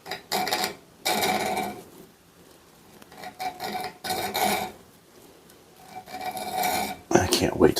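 Hand file cutting a sharpening choil into a knife blade just ahead of the plunge line, heard as close, loud rasping strokes in bursts separated by short pauses.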